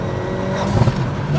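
A turbocharged Hyundai Elantra N engine revs hard and rises in pitch, a brief loud roar close by.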